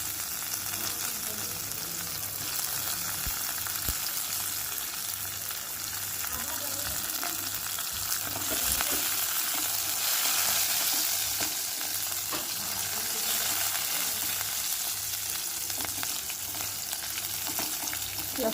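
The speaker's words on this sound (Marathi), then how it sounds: "सोबतच हिरव्या मिरचीचे जे तुकडे करून घेतलेले आहेत ते टाकून घेऊया." Chickpea (gram) leaves and green chilli pieces sauté in a pan, giving a steady, close frying sizzle with occasional stirring scrapes throughout.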